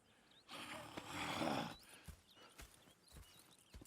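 Horses in the Red Dead Redemption 2 video game, a loud breathy whinny or snort followed by scattered hoof thuds and light clip-clops nearby.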